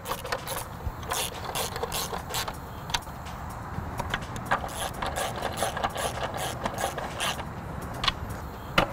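Bolts are snugged up on a fiber handhole closure lid with a ratchet, giving quick clicking pawl bursts and metallic rattles at close range against a low background rumble.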